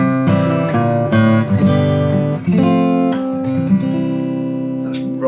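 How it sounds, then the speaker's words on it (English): An acoustic guitar plays a short turnaround riff, plucked notes and chords ringing close up in a brief, rhythmic run. "So on the guitar I'll demo how we can play those."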